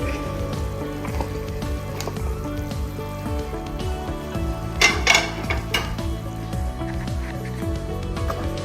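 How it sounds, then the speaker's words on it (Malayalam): Mango pieces go into a pan of boiling carrot pickle and get stirred, giving soft clinks and scrapes of a spoon against the pot over a low bubbling simmer, with a brief louder clatter midway. "നമുക്ക് മാങ്ങ ഇട്ട് കൊടുക്കാം."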